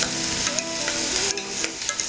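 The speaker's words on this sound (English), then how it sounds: "now we're actually going to add our vegetables. We're adding our carrots, our peppers, our mushrooms, and our scallions." Carrots, peppers, mushrooms and scallions stir-fry in a pan for a homemade Chinese takeout dish, a loud continuous sizzle broken by repeated scraping stirs and light utensil knocks.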